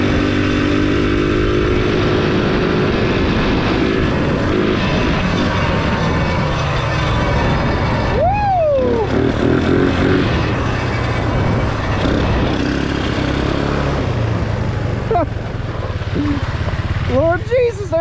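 GY6 and Predator engine minibikes run loud and close in a drag race, a steady buzzing engine drone throughout with rising revs near the end, while people talk over it.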